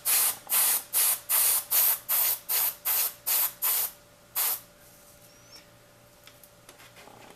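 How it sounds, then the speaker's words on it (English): A spray gun sprays paint over dried liquid mask in ten quick, evenly spaced hissing bursts, then one last burst after a short pause before it goes quiet. "My liquid mask is dried, so I can go ahead and spray these."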